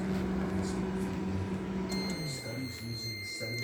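A microwave oven runs while cooking a single egg in a bowl, giving a steady low electrical hum with a thin, high tonal whine layered over it partway through.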